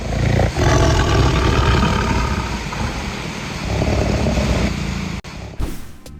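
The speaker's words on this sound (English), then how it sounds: "Yep, tiger." A loud, sustained tiger roar rumbles for several seconds, then tapers off and ends with a brief burst of noise.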